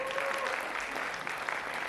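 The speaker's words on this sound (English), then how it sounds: "Another round of applause for him." Sustained audience applause from a crowd at a guitar workshop, steady and dense clapping that fills the whole stretch with no voices over it.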